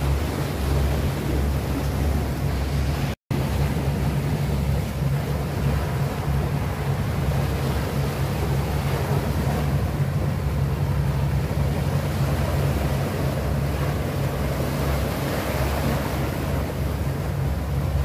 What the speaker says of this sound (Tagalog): Lakas po ang alon pagka may dumaan na sasakyan.